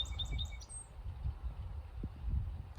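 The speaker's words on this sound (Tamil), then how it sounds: "அந்த பறவைகளோட ஒலியும்," Small birds on a farm near Ottawa give a few faint, thin chirps in the opening second over a soft, steady outdoor rumble, then go quiet.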